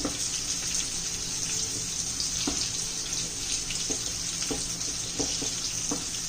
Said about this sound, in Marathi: कार शिजण्यासाठी थोडंसं पाणी घालावं लागतं